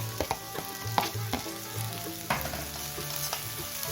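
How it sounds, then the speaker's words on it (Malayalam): Onion and green chilli frying in a pan with ginger and garlic while an apple curry is prepared, giving a steady sizzle with occasional stirring clinks and scrapes throughout, no talking. "നമുക്കിനി അതിലേക്ക് നമ്മുടെ സവോളയും പച്ചമുളകും ഇട്ട് കൊടുക്കാം."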